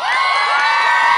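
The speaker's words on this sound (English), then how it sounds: "So how about a big round of applause for Mr." A live audience at a performance at the Hill Country Galleria cheers and whoops loudly, with a dense, continuous crowd roar and high excited shouts sustained throughout without any spoken words.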